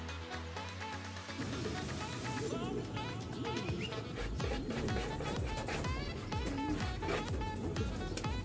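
Racing pigeons cooing at a loft, a dense layer of bird calls that continues throughout, mixed with music and other background sound.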